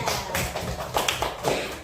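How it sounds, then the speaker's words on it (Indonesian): Classroom pupils clap for a classmate named Lionel, a short, uneven patter of scattered hand claps close by, with some shuffling underneath. "Kasih tepuk tangan untuk Lionel."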